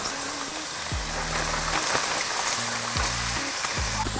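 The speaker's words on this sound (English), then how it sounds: "Now that our beef is entirely browned" Browned ground beef with onions sizzles steadily in a pan, a constant crackling fry with a few faint scrapes, and no talk.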